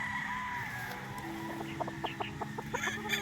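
A Gilmore game rooster on a game farm in Tanauan, Batangas, clucking in a short run of close, choppy calls over a low background murmur.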